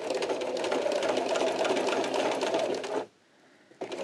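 A sewing machine stitches steadily through the thick layers of a fabric coin purse near the zip at a 1/4 inch seam allowance, running loud and continuous for about three seconds, stopping briefly, then starting again.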